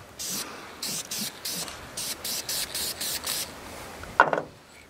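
Spray paint applied to a new oil pan for a 1991 GMC Jimmy, a series of about a dozen short hissing bursts in quick, even rhythm, close by, ending with a clatter.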